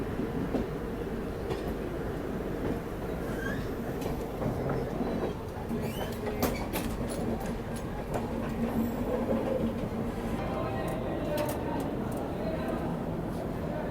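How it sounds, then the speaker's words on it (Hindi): The Kalindi Express rolls past near Kanpur with a continuous rumbling roar and rhythmic clatter of wheels, heard from a nearby train, with faint voices in the background. "ये देखिए कालिंदी एक्सप्रेस, ये भी काफ़ी बढ़िया गाड़ी है"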